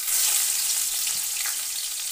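Chopped medium-size onion hits hot spice masala in a pan, giving a steady, close, bright sizzling hiss that holds evenly throughout with no talking.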